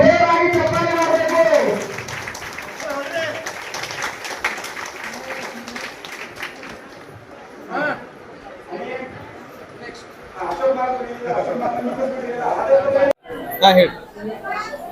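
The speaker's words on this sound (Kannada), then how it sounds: "ಅವರು ಮಾಡೋದವರಿಗೆ ಜೋರಾಗಿ ಚಪ್ಪಾಳೆ ಮಾಡಬೇಕು" Crowd clapping and chatter at a district office-bearer selection event in Vijayapura, the applause bursting near the start and again later, mixed with a speaking voice and murmuring audience throughout.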